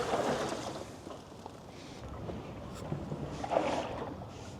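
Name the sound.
water sloshing inside rooftop tent hard lid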